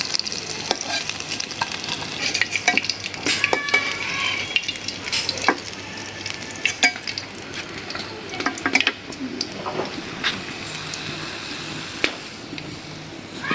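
Food sizzles steadily in hot oil, with occasional scraping and stirring sounds from a utensil against the pan.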